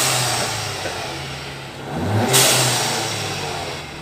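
A Ford Ecoboost Mustang engine revs up from a steady mid-pitched drone, swelling to a peak with a sharp airy burst as the newly installed blow-off valve vents, then settling back, close and loud with no talk.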